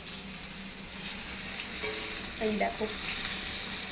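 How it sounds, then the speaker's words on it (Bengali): Pointed gourd (potol) fries in a pan at home, a soft steady sizzle in the background while a person speaks briefly over it. "মানে হচ্ছে পটল ভাজছে।"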